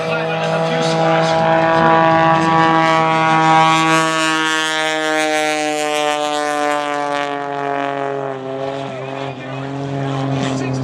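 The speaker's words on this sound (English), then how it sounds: "The airplane is not having any lift generated by the wings, 400 horsepower" Stunt airplane with a 400-horsepower engine performing at a military air station airshow, a loud sustained droning engine tone that slowly shifts in pitch as it passes, with a public-address announcer talking over it.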